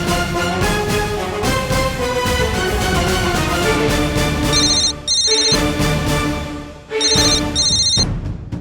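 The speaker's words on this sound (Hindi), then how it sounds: "वसु का फोन" A phone ringtone plays a melodic tune with repeating chiming bursts, loud and close, breaking off briefly before starting again.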